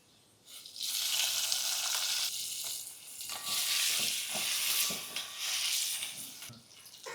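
Chopped garlic, peppercorns and bamboo shoot sautéing in a pan, a loud broad sizzle that swells and eases in waves with occasional stirring knocks, close up and without talk.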